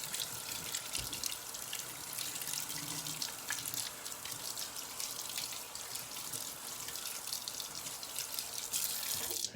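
A kitchen tap runs in a steady, close hiss of water over a sink while basil is rinsed under it, continuous throughout with a faint splash near the end.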